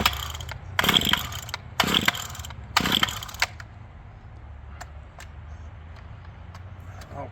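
A cold Stihl chainsaw engine gives three short, loud bursts about a second apart, each dying away, followed by a quieter stretch of low background noise.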